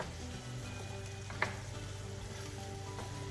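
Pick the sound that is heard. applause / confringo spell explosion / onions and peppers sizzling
onions and peppers sizzling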